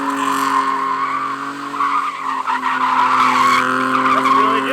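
Car tires skid and squeal steadily while doing donuts on a patchy half-wet, half-dry surface, with a sustained engine drone underneath; the loud, continuous screech swells and dips with no speech.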